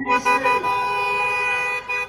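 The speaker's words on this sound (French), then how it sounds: "ils ont 5-6 voitures derrière qui klaxonnent pour donner l'impression qu'ils sont beaucoup" Several cars honk their horns together at a Joe Biden political rally, a dense overlapping blare of steady tones sounding in bursts and sustained stretches, loud and close, with crowd noise underneath.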